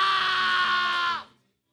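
People on a televised competition show scream together as they plunge into very cold water, a loud sustained cry lasting just over a second before cutting off abruptly.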